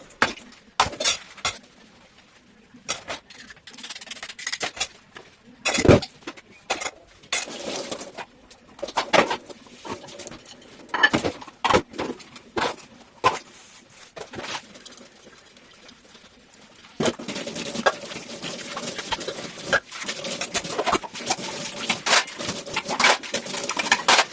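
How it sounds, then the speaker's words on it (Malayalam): Dishes washed by hand in a rural home kitchen: scattered clinks and clatters of utensils and pots, irregular knocks close by, with a stretch of running water late in the clip. "വേഗം പാത്രങ്ങളൊക്കെ ഒന്ന് കഴുകിയെടുക്കട്ടെ"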